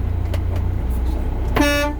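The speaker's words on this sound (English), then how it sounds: "I have my city horn" A single short honk of a truck's city horn during an in-cab pre-trip inspection sounds over the steady low rumble of the idling engine.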